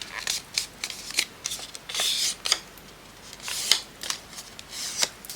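Scissors snip through paper in a quick irregular series of crisp cuts and rustles, some clustered together, heard up close with no talking.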